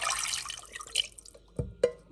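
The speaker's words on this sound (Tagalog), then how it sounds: "Lalagyan ko ng konting tubig" A small amount of water goes into a pot: a brief splashy pour followed by a couple of distinct drips, close and fairly quiet.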